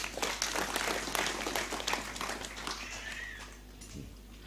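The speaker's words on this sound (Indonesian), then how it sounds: "Oke, tepuk tangan" Audience applause at an Islamic religious gathering, a burst of many hands clapping over a low steady hum, strongest at first and then thinning as it tails off.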